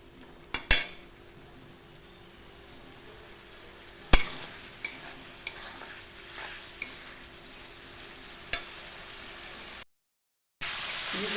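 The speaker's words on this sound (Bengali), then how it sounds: "সব ডিম দিয়ে দিয়েছি, দিয়ে একবারে কষিয়ে নিই।" Eggs sautéed in a pan with a little ginger juice, with a steady low sizzle and a handful of sharp utensil scrapes and clinks spaced through it, then a brief silence and a harsher hiss at the end.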